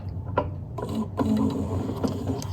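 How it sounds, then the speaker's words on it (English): The hand wheel of a Consew T1919 walking foot sewing machine being turned by hand: soft, close mechanical clicks and ratcheting as the needle goes down, with a few sharper ticks and no talking. "I raise my foot, and then I move the hand wheel towards me, let that needle go down"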